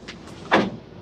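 A large dresser drawer in a renovated hotel room slides open with a single brief wooden scrape and soft knock, fairly loud and close, with no talking.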